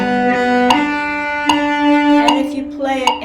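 A cello plays a short phrase of evenly spaced straight eighth notes, with clear attacks marking a steady, straight rhythm.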